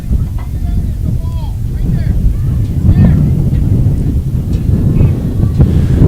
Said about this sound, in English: Very windy right now in Cape Henry.